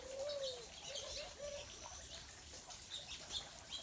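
House finches chirp and call in short, bright notes, with a low cooing dove in the background, at a lagoon in Santa Barbara.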